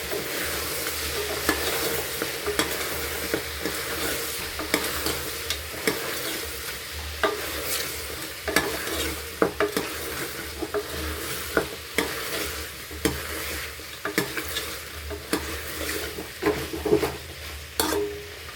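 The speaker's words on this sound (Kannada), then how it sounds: "ಈಗ ಇದಿಷ್ಟನ್ನು ಫ್ರೈ ಮಾಡಬೇಕು." Masala for Mandya-style mutton chops frying in a pan: a continuous hiss and sizzle with repeated scraping and clinking of a spoon as it is stirred, close and steady throughout.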